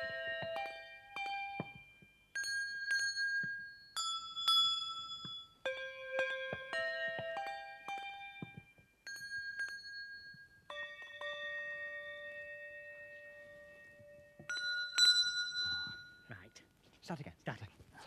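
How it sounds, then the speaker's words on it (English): Handbells played by a bell-ringing troupe at a display, clear sustained tones struck one after another in a sequence of ringing notes with pauses between phrases, fairly close and alone. "let's go over to a special display by the world-famous Birkenhead bell ringers"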